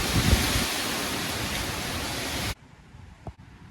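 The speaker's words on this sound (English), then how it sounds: "we got the rain we've been needing" Heavy storm rain pours in a steady, loud hiss, then cuts off abruptly partway through, leaving near quiet broken by one brief knock.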